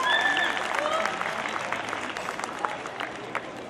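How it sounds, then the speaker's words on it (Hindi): Audience clapping at a school annual day function, a dense round of applause with some voices mixed in, steady then tapering slightly over a few seconds. "बजा लीजिए तालियां, कोई बात नहीं है।"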